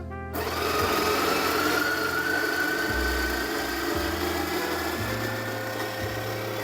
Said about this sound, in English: All right, let's grind the rest of this.